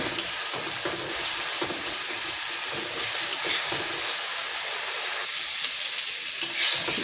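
Spice masala frying in a pan for koi fish curry, a continuous bright sizzle with soft scraping as it is stirred, close and fairly loud, no talking.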